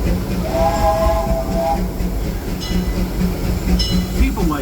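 A steam train on the Disneyland Railroad, pulled by the E.P. Ripley No. 2 locomotive, gives a steady, loud rolling rumble with a whistle-like tone early on. A voice is faintly present in the background.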